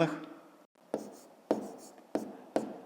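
A pen writes numbers on paper while working out a long division problem, making about five short, close scratching strokes, each starting sharply and fading, with a brief pause near the start.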